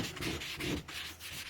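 Compound being wiped by hand across a sanded rocket nose cone, a steady close rubbing and scuffing with a few soft swells of pressure, no talking.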